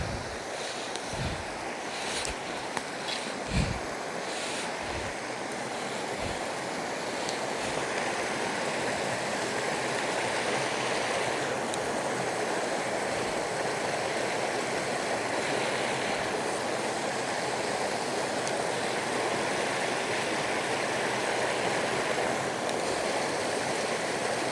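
A small trout stream high in the mountains rushes steadily, a constant close broadband wash of flowing water, with a few faint knocks near the start and no voices.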